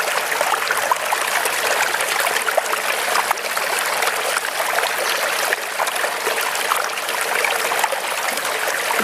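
Steady flowing water from the Zamzam spring, a continuous close rushing and trickling stream with no pauses, holding an even level from start to end.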